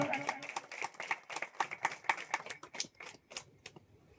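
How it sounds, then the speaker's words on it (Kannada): A church congregation at a Calvary Preeti Ministries service in Bidar claps hard in a fast, steady rhythm, sharp slaps packed closely together, loud and near, thinning out toward the end. "ಚಪ್ಪಾಳೆ ತಡಬೇಕು ಜೋರ"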